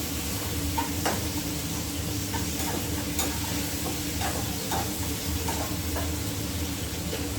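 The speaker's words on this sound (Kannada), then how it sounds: "ನಾನು ಕ್ಯಾಪ್ಸಿಕಮ್ನ ಕೂಡ ಹಾಕ್ಕೊತೀನಿ" Capsicum frying in a pan with a steady hiss and sizzle, punctuated by occasional scraping strokes of a stirring spoon, close and continuous.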